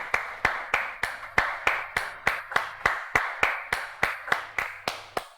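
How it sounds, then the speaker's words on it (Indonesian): Steady hand clapping, about three crisp claps per second, close and distinct, keeping an even rhythm throughout with nothing else audible around it. "Kenapa gue nggak boleh tepuk tangan sekarang?"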